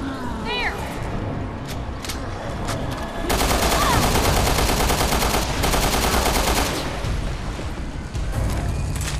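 Rapid bursts of automatic gunfire from a Resident Evil Revelations shootout, loud and sustained for several seconds, with someone shouting over the shots and game sounds around them.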